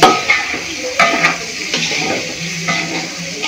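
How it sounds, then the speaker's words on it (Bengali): Washed rice lightly fried in a pot for homemade biryani, a moderate sizzle broken by repeated scraping and clinking stirs of a spoon against the pot. "আমি একটু হালকা ভেজে নেব চালটা"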